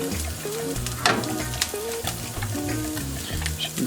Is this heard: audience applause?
no